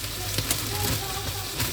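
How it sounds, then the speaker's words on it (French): A pot of rice cooking in water at a steady boil, giving a continuous bubbling, hissing wash with faint crackles, close-up, as a voice speaks briefly over it. "quand le riz commence bien à bouillir"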